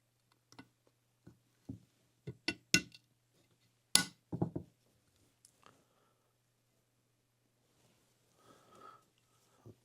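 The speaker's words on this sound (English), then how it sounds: "let's go ahead and get our camshaft sitting back in the journals" An engine camshaft is set back into its journals. Scattered close metallic clinks and taps come in irregular bursts, some sharp and bright, with quiet gaps between them and a faint shuffle near the end.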